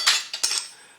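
Stainless steel fork and aluminium spoon clinking together inside a bag, a few short bright metallic jingles in quick succession, close and clear with no talking.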